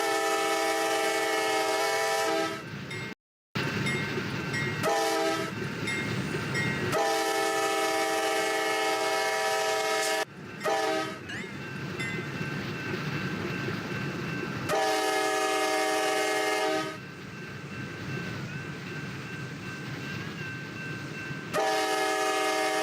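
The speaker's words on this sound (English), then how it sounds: "right now, NS train number 316 is coming in from Bellevue, Ohio, and will be yarding here in Binghamton." Norfolk Southern freight train 316 arrives into the yard at Binghamton on the NYSW line, sounding long, loud horn blasts in several separated sequences over the rumble of the moving train.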